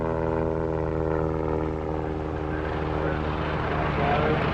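A propeller-driven tow plane drones loudly and steadily as it launches a sailplane at an academy airfield, its engine hum rich and constant throughout, with a narrator's voice running over it.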